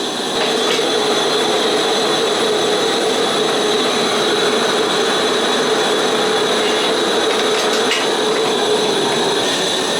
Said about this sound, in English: the workstation's all set up and the forge is to temp, so let's go ahead and put it in